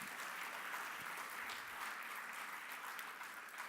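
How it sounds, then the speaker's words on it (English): An audience at the 34th annual Miami Book Fair applauds, a steady dense patter of many hands clapping, faint and distant, continuing evenly without voices. "Please, let's give a round of applause for this 34th annual book fair."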